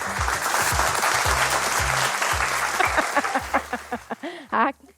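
Applause follows a sung performance on a Kurdish entertainment show, a sustained burst of clapping mixed with voices that thins into a few scattered claps before a speaker's voice takes over at the end.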